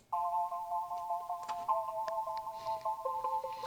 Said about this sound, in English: I wanted some staccato keys in like the heavier parts of the song